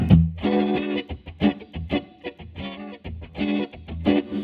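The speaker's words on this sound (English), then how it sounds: "The fuzz by itself is a cool sound" Electric guitar through a fuzz pedal with a thick, fuzzy distorted tone plays a choppy phrase of short notes and chords.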